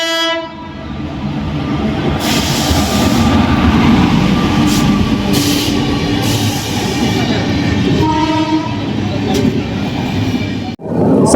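The Sanghamitra Express, a long-distance sleeper train, rumbles loudly through a station in India, carriages rattling and clattering, with a horn sounding near the start and again later, before a brief sharp drop.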